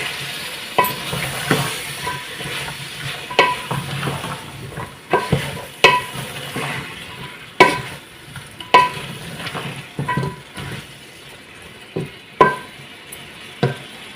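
A spoon stirs potatoes, carrots and peas frying in a pan, scraping and clanking against the metal in irregular strokes over a continuous sizzle, fairly close.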